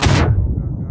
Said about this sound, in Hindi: अरे वो स्नाइपर मार रहा है